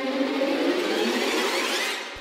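Wretched Rises orchestral rise effect from a free Project SAM orchestra plugin: a dense, swelling wash of bowed texture that holds strong and alone, easing off near the end.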